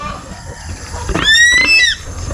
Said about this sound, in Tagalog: Nakalabas yung isa kong baboy, oh.